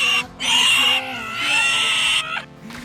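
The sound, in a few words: pig squealing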